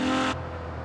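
A heavily modified Apollo Intensa Emozione engine in Forza Horizon 4 revs with a loud, steady tonal roar that cuts off abruptly after a third of a second, leaving a low rumble.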